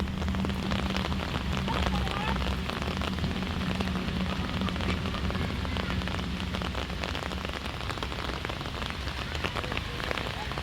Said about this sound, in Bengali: বৃষ্টি হচ্ছে দেখেন ফোটাগুলো কি বিশাল বিশাল যেটা পড়ছে ওটা আবার একটা বল বানায় দিচ্ছে পানির মধ্যে